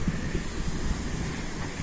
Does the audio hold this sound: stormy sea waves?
yes